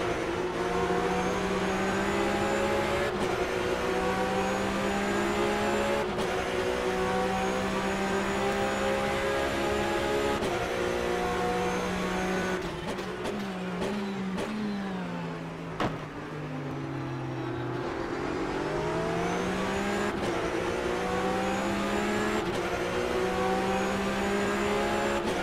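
Porsche Supercup race car engine from an onboard camera in a race in Hungary, loud and continuous, with sustained high revs, sharp gear-change breaks and one deep drop as the car slows before accelerating again.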